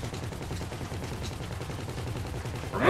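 Sustained rapid-fire shooting during a GTA Online heist at Humane Labs, a steady rattling volley that stays fairly even and fills the whole stretch, with a sharper burst right at the end.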